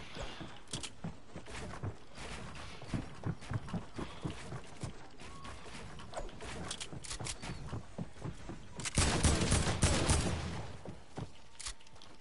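Gunfire in an online shooter video game, dense rapid bursts of shots with many sharp cracks and a louder, heavier volley near the end, over continuous game noise.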